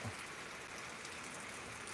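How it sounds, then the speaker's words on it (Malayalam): Faint, steady patter of rain falling outdoors during a thunderstorm, a soft continuous hiss without any distinct thunderclap, distant and low in level. "ഇവിടെ മഴയും ഇടിയുമാണ്"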